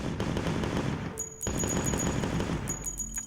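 Rapid automatic gunfire effect from a homemade first-person shooter game, a dense continuous rattle of shots that briefly cuts out around the middle, with high metallic pings over the later bursts.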